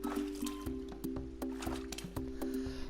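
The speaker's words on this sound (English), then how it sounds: "That's something being dragged out of water, then something's being splashed into water." Wet squelching splashes in Dreams on PS4, something dragged out of water and then dropped back in, a string of short soft plops and drips over a low steady hum.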